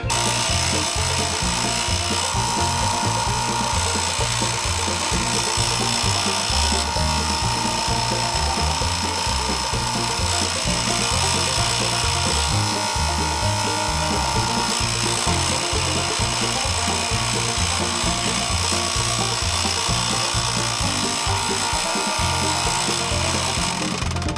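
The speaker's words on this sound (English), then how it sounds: "So we're going to go back over to the last saw that I was using." A power saw cuts into a small piece of wood being shaped into a wooden ring, a continuous, close whirring and grinding with irregular bursts of rasping as the blade bites, steady for over twenty seconds.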